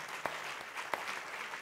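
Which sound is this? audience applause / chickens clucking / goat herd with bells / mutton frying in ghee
audience applause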